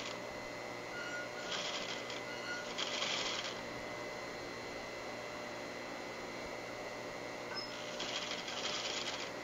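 A sewing machine stitches a draped panel onto a blouse with long stitches, a close steady mechanical whir with brief louder bursts as the stitching speeds up.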